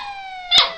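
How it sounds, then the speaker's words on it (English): A single short dog bark cuts in near the end, over a steady tonal hum in the background. "that was my dog barking"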